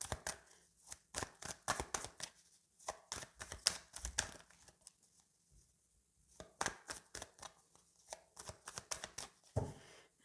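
A deck of tarot cards is cut and shuffled, giving rapid, faint papery flicks and riffles in several bursts with short quiet gaps between them.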